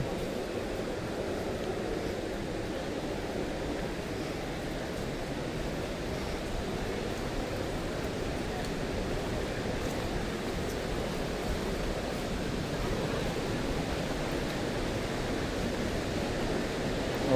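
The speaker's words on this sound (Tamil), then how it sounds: "அதோ அருவி." Athirappalli waterfall roaring as a steady, dense wash of falling water, constant and fairly close throughout with no talking.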